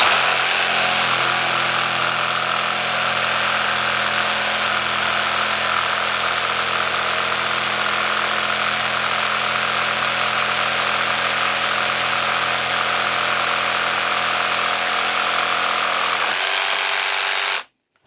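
An AEG BST18BSBL cordless jigsaw, set to speed 6 with a fresh blade, saws through a 7 cm thick piece of wood in one loud, steady buzzing stretch that cuts off abruptly near the end.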